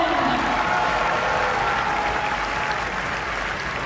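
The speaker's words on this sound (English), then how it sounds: "That's a huge cheer, as you'd expect" A stadium crowd at a women's 400m hurdles semifinal of the European U20 Athletics Championships in Tampere, Finland, cheers and applauds loudly and steadily throughout, a broad continuous roar with no gaps.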